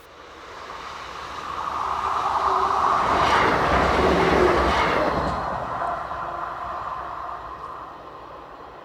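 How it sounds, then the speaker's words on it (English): British Rail class 158 unit 158854 on a Nottingham to Grimsby service rushes past, its diesel hum and wheel noise swelling to a loud close peak and then fading away. "158854 scurries past, forming the 636 from Nottingham to Grimsby."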